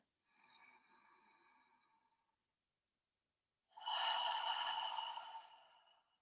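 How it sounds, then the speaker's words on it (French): During a yoga session, a soft breath draws in, a pause of silence follows, then a long, loud, airy exhale through the mouth fades out slowly. "Souffle par la bouche"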